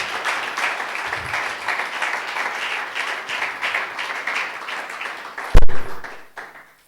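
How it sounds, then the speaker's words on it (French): A worshipping congregation claps hands together in sustained, dense applause that stays steady, then breaks off with a sharp knock near the end and fades out. "Let's clap our hands for the Lord."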